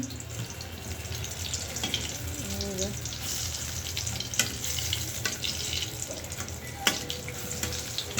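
Eggplant slices fry in oil with a continuous crackling sizzle, close and moderately loud, broken by a few sharp pops and clinks of utensils.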